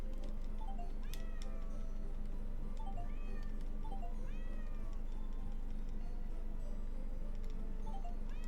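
Cats in a video game meow repeatedly, several sliding calls spaced every second or so over a steady, dense game soundscape with ticking, loud and continuous.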